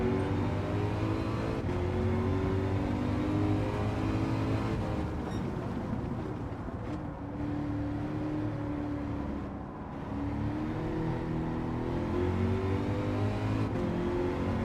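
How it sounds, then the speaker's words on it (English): A V8 engine in Gran Turismo 7 drones steadily with rising and falling revs as the car accelerates and shifts, a continuous loud hum filling the whole stretch with no talk over it. "The V8 isn't that loud, but at least it's a V8."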